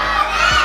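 Children in a Grade 1 and 2 class shout hooray together as a crowd, a brief loud burst of many young voices.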